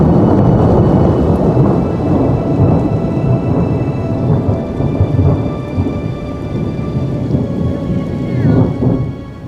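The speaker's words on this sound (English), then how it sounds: "Well, now we have hail." Hail pelts down during a storm on a backpacking trip in the Weminuche Wilderness along Colorado's Pine River Trail, a loud, dense, continuous rattling roar that swells and eases slightly, with no talking.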